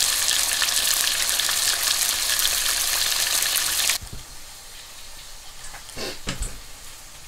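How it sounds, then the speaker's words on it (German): Stuffed bell peppers set upside down in a pan of hot oil, a loud, dense sizzle that cuts off abruptly partway, leaving quieter hissing and a few clatters of the pan. "Anbraten."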